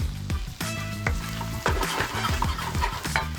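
Pork hitting a hot wok with golden garlic and tender onion for Chinese fried rice, a loud close sizzle broken by rapid metallic scrapes and clinks of a spatula stirring.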